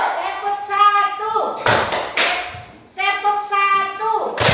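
Children in a classroom chant together, and between the chants come a few short, sharp bursts of group hand clapping in a counted rhythm.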